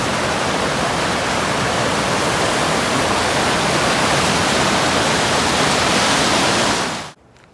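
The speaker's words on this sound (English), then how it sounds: "lots of runoff to strengthen the river, and it is showing" A river swollen with rain runoff rushes in a loud, steady, broadband roar, close by and unbroken for about seven seconds, then cuts off abruptly.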